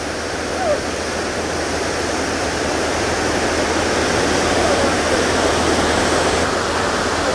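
Water rushes and splashes in a continuous, loud roar that holds steady for the whole stretch, close by at Crater Lake National Park, Oregon, with no voices.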